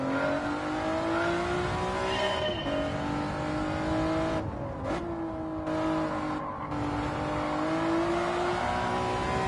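A Honda NSX race car lapping Interlagos in Gran Turismo 7, its engine a loud, steady high-revving whine that climbs and dips through gear changes, with brief lifts off the throttle.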